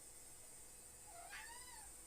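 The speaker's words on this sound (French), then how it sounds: "Oh miaou" A cat meows once, a short, faint call rising then falling partway through, over a steady indoor background hiss.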